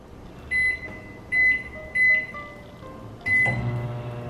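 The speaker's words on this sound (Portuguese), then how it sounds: "eu só vou colocar lá no micro-ondas" A microwave oven set for two minutes gives four short, loud electronic beeps as keys are pressed, and the last is followed by the low hum of it starting to run.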